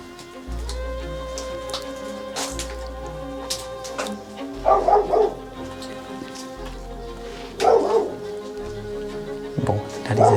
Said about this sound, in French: le chien nous a peut-être repérés